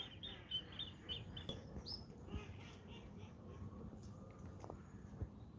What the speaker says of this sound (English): somebody's been feeding all the birds because they've now gone right over that corner